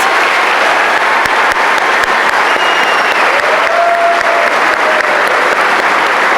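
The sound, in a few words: audience applauding graduating students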